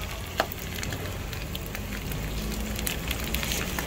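Quiet, continuous crackling and sizzling of dried fish frying in oil, with scattered pops over a steady hiss.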